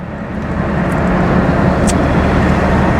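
Dacia 1310 car driving at 60 km/h around 2000 rpm, heard from inside as a steady, loud low engine drone with road rumble throughout.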